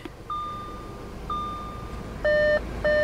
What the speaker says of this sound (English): Why do I need this thing beeping to tell me my door's open